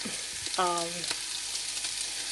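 Beef cheeks sizzle in a hot pan with a continuous close frying hiss, and a short clatter of utensil or meat shifting partway through.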